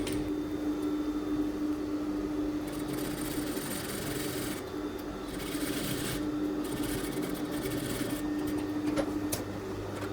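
A sewing machine stitches a seam on a pair of kids' pants, a steady close mechanical whir with a faint tonal hum, running continuously with slight pauses in intensity.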